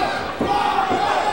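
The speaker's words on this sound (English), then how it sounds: "See the taco chant's going on right now" A wrestling crowd at an MPW show chanting in unison, a loud rhythmic mass of voices filling the hall in two pulsing swells.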